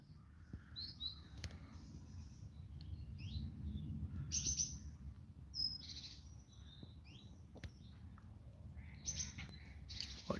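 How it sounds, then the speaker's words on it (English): Several birds chirp and trill intermittently in the distance over a steady low rumble, like running water or wind, with no talking. "I love to listen to the sounds of the birds in the background."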